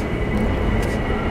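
A subway train rumbles steadily and loudly through the 34th Street–Herald Square station on the N and R tracks, a dense continuous roar with no pauses.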